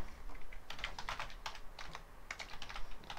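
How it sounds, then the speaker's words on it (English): Typing on a computer keyboard while entering an email address, close and fairly quiet, with bursts of rapid key clicks separated by short pauses. "Let me just type this in there."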